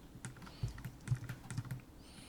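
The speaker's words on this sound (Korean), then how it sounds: "탭키 눌러서 나와주시고" Computer keyboard keys clicking in a quiet room during 3D modelling work, with several distinct presses including the Tab key, irregular taps spread over about two seconds, close and fairly quiet.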